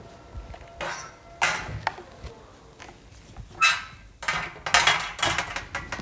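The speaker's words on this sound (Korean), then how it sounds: "망치 같은 경우로 콕콕 치면 다 들어갔는데요." Hammer tapping a replacement part tightly into a cracked rail, heard as several sharp, close knocks in uneven bursts with quiet gaps between them.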